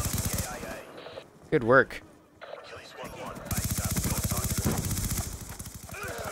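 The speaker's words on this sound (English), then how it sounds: "Lots of firepower going on behind me." Rapid gunfire in the Black Ops 2 team deathmatch game, loud sustained automatic bursts with a brief lull and a short spoken line in between.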